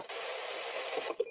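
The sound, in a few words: Morse code-like signal from a hacked radio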